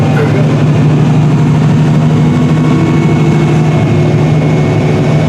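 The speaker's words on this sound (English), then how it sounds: "We're up in the cab of a Challenger 1038 tractor, and it is pulling an AGCO White 9800 VE planter" Inside the cab of a Challenger 1038 tractor pulling an AGCO White 9800 VE planter, the engine drones loudly and steadily in a low, even hum with no pauses.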